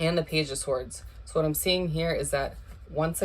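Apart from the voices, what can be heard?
No everyday noise stands out behind the speech.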